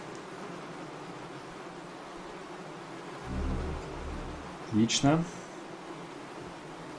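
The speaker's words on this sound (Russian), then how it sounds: "этот гул от мух просто невероятно как-то" Fly swarm buzzing in the video game Demon's Souls, a steady low drone underlying the scene with a brief rumble and a short spoken word cutting in partway through.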